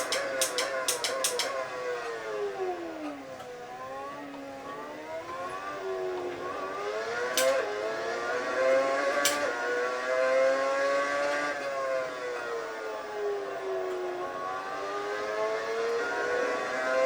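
Racing car engine in a sim racing game, run on a Thrustmaster T3PA Pro pedal set, rising and falling continuously with repeated gear changes and downshifts under braking on cold tires, steady and fairly loud with no talking.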